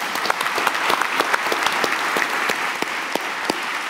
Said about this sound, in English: he deserves another round of applause for this fantastic conversation.